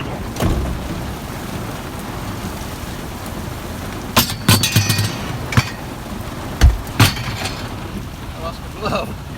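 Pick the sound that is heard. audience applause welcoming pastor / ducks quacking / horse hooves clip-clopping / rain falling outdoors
rain falling outdoors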